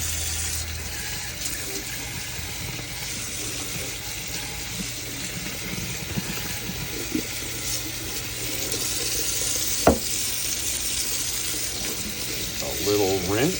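Tap water runs steadily to rinse an AeroPress coffee maker at a kitchen sink, a continuous close gush lasting throughout with small clinks and handling noises near the end.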